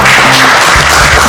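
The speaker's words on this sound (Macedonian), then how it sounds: "еден аплауз за молам" A studio audience claps through the whole brief moment on the Macedonian cooking reality show "180 Stepeni", a loud, dense, continuous wash of hands with no pauses.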